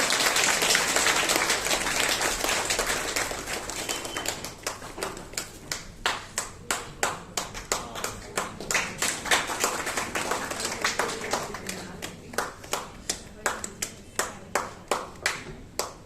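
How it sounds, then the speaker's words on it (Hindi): An audience at a birthday gathering applauds to welcome a speaker, first as a dense burst of clapping, then settling into slower rhythmic claps in unison that continue to the end. "जब तक वो आ रही है तब तक आप उनका ताली से स्वागत कीजिए"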